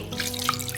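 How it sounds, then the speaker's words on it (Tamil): Water trickles and splashes briefly into a pot of ragi koozh batter, a short liquid pour with a faint drip. "இதுல ஒரு 1/2 டம்ளர் தண்ணி ஊற்றி"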